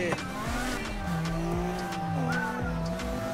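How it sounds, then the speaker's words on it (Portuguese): Car exhaust roaring in the racing video game Need for Speed Heat, a sustained engine drone that rises and dips in pitch, with brief tire squeals, steady and fairly loud without talk. "Olha o escapamento berrando, ó."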